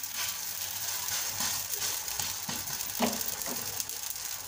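Malwi flatbread dough frying in oil in a hot pan on low heat, a soft continuous sizzle with faint scraping and clicking from handling, fairly close.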